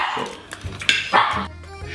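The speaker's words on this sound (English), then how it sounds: "What are you barking at?" A dog barks in a few short, sharp bursts indoors, with a faint voice in the background between the barks.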